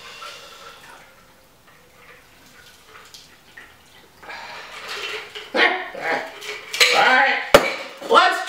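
A Nevada cocktail is poured into a chilled martini glass, with quiet trickling and clinks of glass and metal that grow louder toward the end, alongside some speech.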